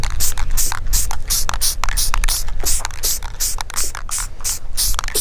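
Steady hissing bursts from a spray paint can laying down an orange outline outdoors, the short repeated sprays running continuously over a low wind rumble.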